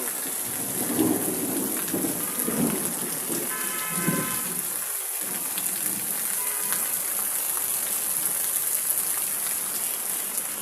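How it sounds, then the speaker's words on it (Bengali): Heavy rain pours steadily onto a rooftop in Dhaka, a dense continuous hiss with low thunder rumbling through the first half, loud and close throughout. "দেখুন বৃষ্টি প্রচুর"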